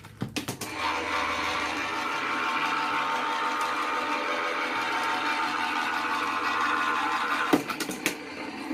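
A machine cranks a 3D embossing folder through its rollers, giving a steady mechanical whir and grind that runs for several seconds, with clunks as the pass starts and ends. No one speaks over it.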